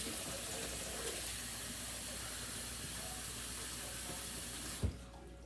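Very hot water running from a kitchen tap, a steady hissing stream close by that stops with a short knock near the end, no talk.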